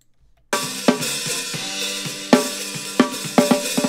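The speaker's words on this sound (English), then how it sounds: "there's so much hi-hat in this snare mic" Snare drum hits ring out at an uneven rhythm in a funk band recording in a garage, with a bright hi-hat sizzle bleeding through the snare mic constantly behind them.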